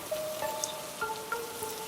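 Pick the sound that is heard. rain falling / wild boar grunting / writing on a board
rain falling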